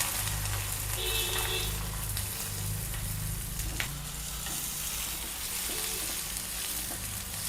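Chopped onion, mustard seeds, cumin and curry leaves fry in a pan with a steady, close sizzle and occasional stirring over a low hum.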